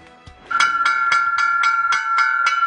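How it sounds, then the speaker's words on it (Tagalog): School bells in Cebu province are rung together for a National Family Week celebration, producing a bright, sustained metallic ringing with regular repeated strikes, close and clear after a brief quiet start. "Sabay-sabay na pinatunog ang mga batingaw o bell ang mga paaralan dito sa lalawigan ng Cebu"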